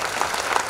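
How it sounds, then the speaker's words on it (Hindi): Brief burst of audience applause at a gala cultural night, a dense wash of clapping from a crowd, loud and close. "जोरदार तालियों से धन्यवाद करें"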